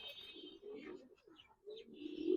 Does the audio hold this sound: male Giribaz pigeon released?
yes